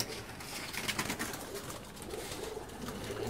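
Soft, low pigeon cooing repeats faintly against a steady background hiss, with no talking.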